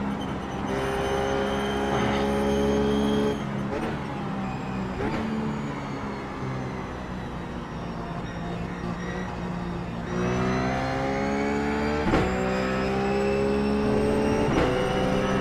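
A Ruf GT3 race car engine lapping Phillip Island in iRacing, loud and continuous, revving up through the gears with a few sharp shift breaks and steady high-pitched drone.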